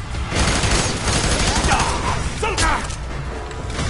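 Bursts of rapid gunfire from the video game F.E.A.R. 3 crackle loudly, mixed with clanking mechanical effects and a brief tonal sound.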